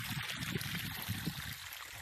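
Water pours steadily from a rubber hose on an organic farm, a continuous close trickling and gurgling flow with no talk.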